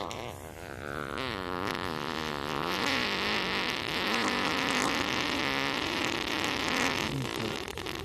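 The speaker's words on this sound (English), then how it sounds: "I guess this is a genre of fart we can next delve into, the long fart" A long, drawn-out fart plays back as part of a video, a sustained buzzy, wavering blast that runs for several seconds at steady, fairly loud level.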